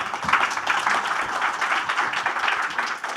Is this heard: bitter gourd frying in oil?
no